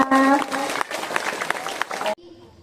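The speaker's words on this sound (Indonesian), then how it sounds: "Ya, beri tepuk tangan kepada Kakak Nabila." Students at a school morning assembly for National Children's Day 2025 clap, with brisk scattered applause and raised voices from the crowd, loud at first and then thinning before cutting off abruptly.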